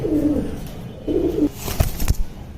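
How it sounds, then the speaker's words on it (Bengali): A female Sapchila pigeon in a loft coos in two low, rumbling phrases close by, followed by a couple of sharp clicks or taps. "এই সাপচিলা কবুতরের মাদি কবুতরটা"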